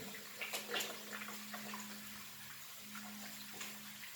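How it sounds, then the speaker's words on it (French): A tap runs steadily as hands are rinsed under the stream, giving soft, continuous splashing with small irregular spatters, faint and close. "on ouvre de l'eau et puis on rince ses mains"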